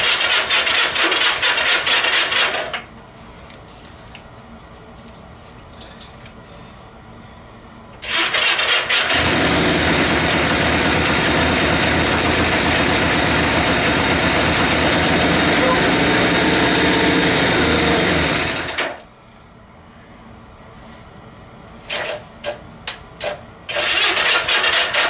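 A Honda Benly motorcycle engine cranks and catches, running loudly for about ten seconds before dying, between quieter stretches with someone talking and a few sharp knocks near the end.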